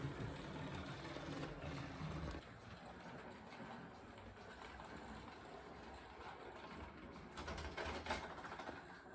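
A Mantua model train locomotive pulling a log train with a boat load runs along the track with a steady mechanical whir and rattle, a bit louder at the start and with clicking toward the end, heard alone and moderately close.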